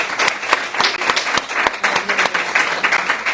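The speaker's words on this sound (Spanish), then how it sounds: "Le damos un aplauso al Señor por la vida de esta guerrera." Audience applause at a Christian lunch talk gathering, a lively mix of crowd clapping with several sharp, close individual claps standing out in an uneven rhythm.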